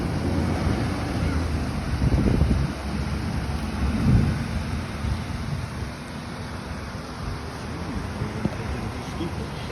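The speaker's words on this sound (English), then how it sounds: "Thunder and lightning out." Thunder rumbles during a spring storm on the St. Lawrence River in New York, with two low swells standing out over a steady wash of wind and rain noise heard from outdoors.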